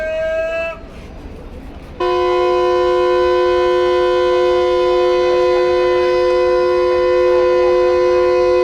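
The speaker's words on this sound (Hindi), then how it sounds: "GU20 की विसल हो चुकी है और गाड़ी अब जो है लाहौर से रावलपिंडी के लिए रवाना हो रही है।" A Pakistan Railways night train whistles as it departs Lahore for Rawalpindi: a short tonal blast, a pause, then a long loud sustained whistle that holds steady to the end.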